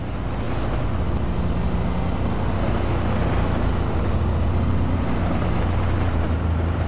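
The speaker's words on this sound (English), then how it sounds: "The engine sounds good too, so we'll switch it on." Engine of a Jack Moose Mow IT lawnmower in Farming Simulator 19, a steady low rumbling drone that runs evenly throughout, close and continuous with a faint high whine above it and no talk.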